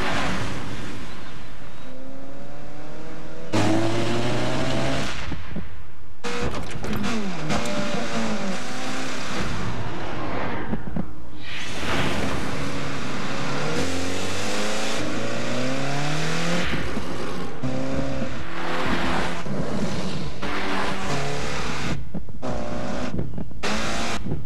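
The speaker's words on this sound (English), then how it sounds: "Introducing the Scion FRS." A Scion FR-S sports car in a commercial drives and revs hard, with rising and falling engine pitch, gear shifts and tire noise in loud sweeping passes, cut by brief gaps and sharp edits.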